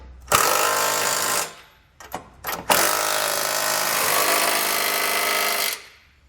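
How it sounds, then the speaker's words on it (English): An impact or power tool runs loud and close on the Curt trailer hitch bolts of a 2020 Subaru Forester, spinning a 3/4 inch socket in two long bursts with brief stuttering pulses between them. "now we can use a 3/4 inch socket to snug everything down"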